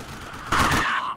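Burst of gunfire from the combat game Xenonauts X-Division, with many weapons firing at once in a loud, dense volley that swells after a quieter lead-in and fades at the end.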